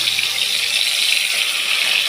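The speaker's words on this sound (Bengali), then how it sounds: "এইবার আমি কই মাছগুলো ভেজে নেব।" Whole koi fish sizzle in hot oil in a pan, two at a time. A steady, bright hiss continues without a break and with no talking.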